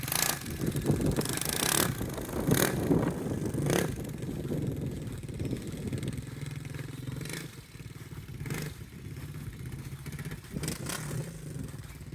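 A Suzuki DR350 motorcycle being ridden, its engine droning and revving loudly throughout, with rises and dips in throttle and some rattling, heard close and without talk.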